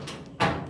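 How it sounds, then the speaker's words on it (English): A hand-built door in a workshop scrapes open, catching at a tight gap against an inner lip: a short, close rubbing burst followed by a louder scraping push, with no voices. "I think the door opens now"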